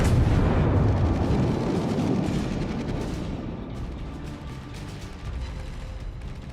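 Heavy battleship guns from the American USS Colorado boom in a naval warfare game, a dense rumbling roar that is loudest at the start and slowly fades into a rolling low rumble, with a smaller burst near the end.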